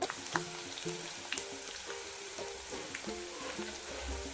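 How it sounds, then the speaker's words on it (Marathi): Chopped onion cooks in a pan for podi upma, making a soft, low sizzle with a few light scrapes and taps of a spoon, fairly quiet and close. "कांदा ऍड करून घेते कांदा थोडस शिजू द्यायचो"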